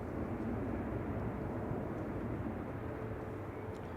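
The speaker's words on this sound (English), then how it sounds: "Touching down is Ryanair 3209 from Malaga," A Ryanair Boeing 737 MAX 8 arriving from Malaga lands at Manchester Airport, a steady, faint broadband engine roar heard from a distance with no voices.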